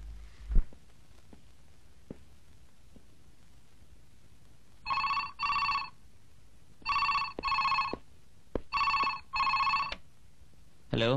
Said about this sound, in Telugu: Hello, call from monk uncle.